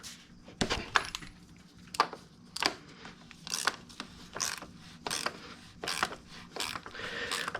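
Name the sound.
ratchet loosening BMW E46 oil filter housing cap, 36mm socket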